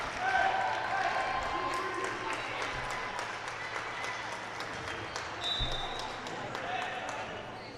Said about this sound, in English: And Welker gets a good hand from the crowd